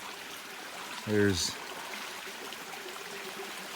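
A small, clean farm river holding freshwater shrimp and crayfish flows with a soft, steady wash of water throughout, and a voice briefly speaks near the start.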